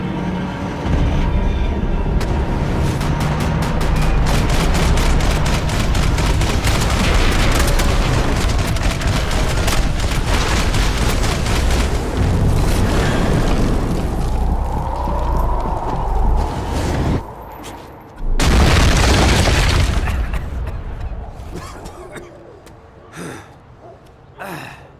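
Max Payne 3 firefight: loud, dense rapid shots in a continuous barrage that holds steady, breaks off abruptly, then resumes in a short closing burst before trailing into scattered quieter pops.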